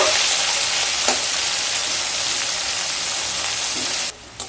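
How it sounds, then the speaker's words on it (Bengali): Medium-sized bitter gourd pieces fry in hot oil with salt until reddish, giving a loud, dense, steady sizzle that runs without a break for about four seconds before dropping off sharply. "দিয়ে উচ্ছেগুলোকে লাল লাল করে ভেজে নেব"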